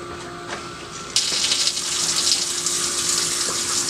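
Coolant mixture pours into the coolant tank of a Tormach lathe, starting abruptly as a steady, close gushing stream after a quiet moment and continuing without a break.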